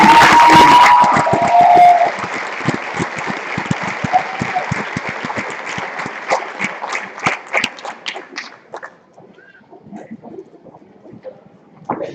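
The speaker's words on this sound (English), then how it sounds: "So one more round of applause for these 42 students." An audience at a high school senior awards ceremony applauds 42 scholarship recipients with a loud, dense burst of clapping that gradually thins into scattered claps and fades out.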